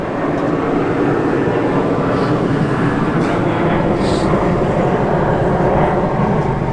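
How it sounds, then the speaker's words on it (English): An airplane flies overhead outside an open mic spot in North Hollywood, a loud, continuous broad engine roar dominating throughout with no talking. "Hold for plane."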